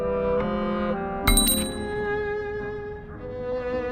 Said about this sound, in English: The sound of church bells can be heard.